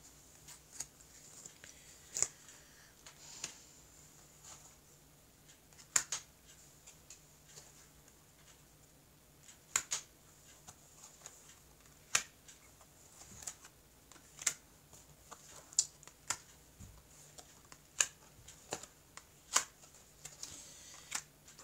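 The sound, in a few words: cutting and handling a deck of tarot cards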